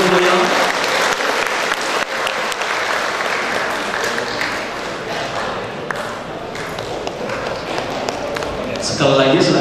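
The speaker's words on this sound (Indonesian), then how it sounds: "Silakan berikan tepuk tangan yang paling meriah." Loud, sustained audience applause at a national seminar on microwave antennas and propagation, dense clapping filling nearly ten seconds, with some voices and a few thumps mixed in.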